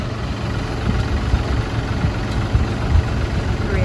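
A tractor engine runs at a steady, low rumbling idle while a big tree trunk is loaded. Dense, loud, continuous engine noise fills the scene with small knocks and no talk.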